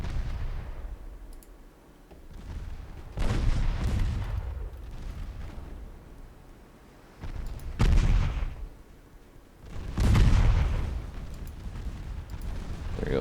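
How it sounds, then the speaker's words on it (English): Naval guns firing in Ultimate Admiral: Dreadnoughts, a battleship-era naval combat game: several heavy booming salvos spaced a few seconds apart, each with a rolling rumble that fades, fairly loud. "There we go, 2-inch guns are opening up."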